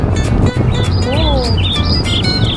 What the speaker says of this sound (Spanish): ¡Pájaros más enormes!